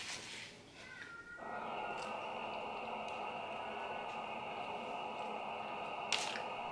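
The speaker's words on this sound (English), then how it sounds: "Now I hear all this noise. It's like the water. They're running water upstairs." Water runs through the pipes of an upstairs floor, heard from the room below as a faint, steady hiss that starts after a moment and continues evenly.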